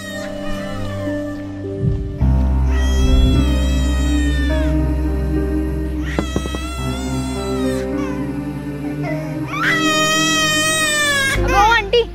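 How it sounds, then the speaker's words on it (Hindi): An infant cries in loud, drawn-out wails, three long bursts separated by brief pauses, close by over a steady low hum. "अच्छा बच्चे की रोने की आवाज आ रही है ना?"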